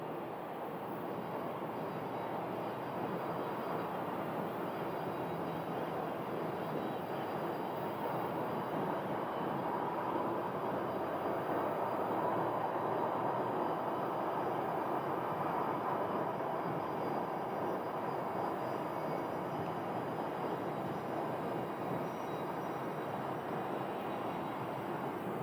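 A jet airliner rumbles past at Phoenix Sky Harbor airport, a steady broad roar heard from a distance that holds even throughout, with no voices.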